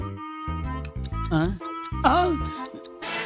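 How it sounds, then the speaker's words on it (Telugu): A wristwatch ticks as heard through a doctor's stethoscope in a comedy scene, a series of sharp little ticks set against strong tonal sound. "గుండె లాప్టాప్ లాప్టాప్ అని కొట్టుకోకుండా టిక్ టిక్ టిక్ టిక్ అని కొట్టుకుంటోంది. పెట్టింది వాచ్ మీద, గుండె మీద కాదు."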